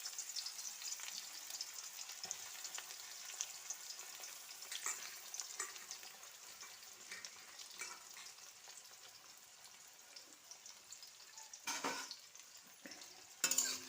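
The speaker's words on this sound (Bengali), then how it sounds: "পেঁয়াজটা দিয়ে ভালো করে প্রথমে পেঁয়াজটা একটু লাল লাল করে ভেজে নেব।" Chopped onion fries in oil in a kadai with a soft, steady sizzle, broken by occasional stirring scrapes and clinks, heard faintly and without talk.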